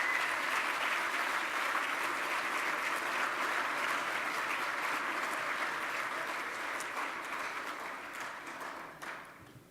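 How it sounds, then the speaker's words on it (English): Sustained applause from a large audience at a Public Policy Forum gala dinner, dense and even for several seconds before thinning out and fading near the end. "Please give these individuals a hearty round of applause."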